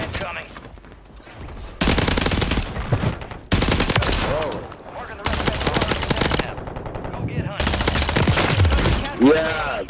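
Rapid bursts of automatic gunfire from a Striker 9 submachine gun in a shooter video game, loud and close, several long sustained volleys separated by short pauses, with game sound effects between them.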